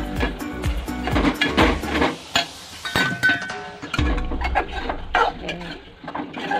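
Prawn curry (kolambi rassa) stirred in a metal pan, with a busy run of clinks, scrapes and knocks from the spoon against the pan, loud and irregular with no talk.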